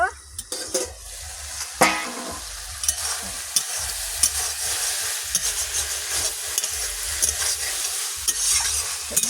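Meat frying in a kadai on a stove while being stirred, a close, constant sizzle with irregular spatula scrapes and clanks against the metal pan.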